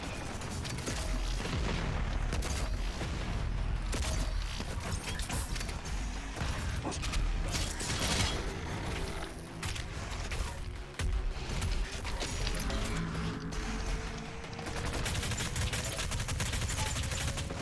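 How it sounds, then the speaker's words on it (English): Rapid plasma rifle fire in a PC shooter game, a dense, continuous volley of gunfire with mechanical clatter that stays loud and near throughout, with no talking. "plasma rifles are good against this guy"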